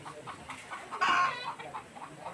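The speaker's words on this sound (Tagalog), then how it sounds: "sari-saring mga manok" Chickens clucking nearby in a soft, irregular rhythm, with one louder squawk rising briefly in the middle.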